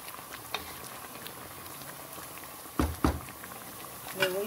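A pot of lentils simmering as the water cooks off, with soft bubbling and popping, faint and close, plus a few louder plops and knocks near the end.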